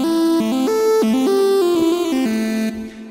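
Synth lead patch from Native Instruments Massive with pitch cutoff turned off, a bright buzzy monophonic line stepping through several sustained notes before fading out, heard alone.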